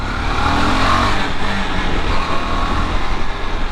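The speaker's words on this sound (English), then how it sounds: "the only grunt I'm able to hear is from the engine." A KTM motorcycle engine runs steadily up close, heard from just above the engine below the tank, a continuous loud rumble with no talking.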